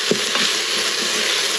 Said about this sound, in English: we want to keep stirring this because we do not want our garlic to burn